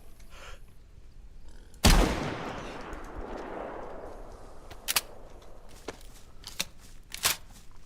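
A single loud gunshot in the DayZ video game fires from a BK rifle in a spawn area, followed by a decaying echo and then several sharper, fainter shots or clicks spread over the following seconds.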